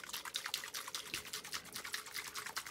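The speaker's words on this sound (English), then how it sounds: "you're going to be shaking this quite vigorously for the next 10 minutes" Plastic container holding a liquid finasteride solution shaken hard, fast even sloshing strokes in a steady rhythm, fairly faint and with no voices.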